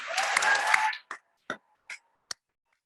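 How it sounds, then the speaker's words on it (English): Short burst of applause from a crowd at a 2022 biomedical sciences graduate hooding ceremony fades quickly, leaving a few isolated, separate claps trailing off in near silence. "How about one more round of applause for our graduates?"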